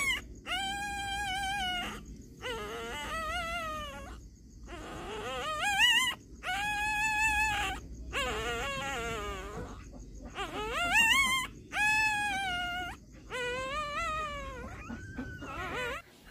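Newborn puppies whimper and yelp in a steady stream of close, high, wavering whines and short cries, with only brief pauses between calls and no voices.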